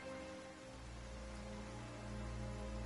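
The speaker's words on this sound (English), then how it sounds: "Why is it raining all of a sudden?" Steady rain falls in Genshin Impact, a dense continuous patter that fills the scene evenly with a low hum underneath and no voices.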